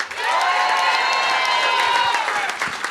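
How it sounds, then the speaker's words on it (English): Studio crowd at a football variety show cheering and clapping at full volume, a dense continuous roar with shouted whoops layered on top from start to finish. "give us a rapturous applause for each person as I call out their name."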